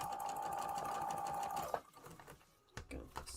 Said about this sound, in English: Sewing up some pieces here.